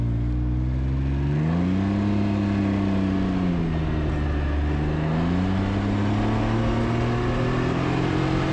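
The 900 ACE engine of a 2021 Can-Am Ryker three-wheeler, paired with a CVT automatic, runs steadily and smoothly. Its hum is close and continuous, rising and falling gently in pitch twice as the throttle eases on and off.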